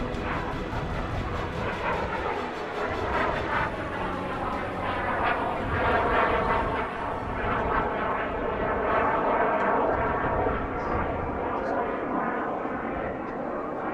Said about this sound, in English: a North Korean MiG-15 BIS that was captured by the United States in 1953